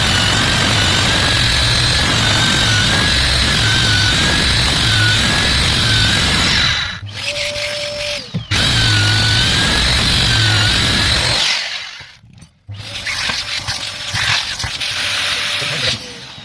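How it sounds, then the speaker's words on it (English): A power drill bores a hole into concrete for an anchor bolt install, loud and close. It whines in two long runs with brief pauses between. "Let's drill the hole first."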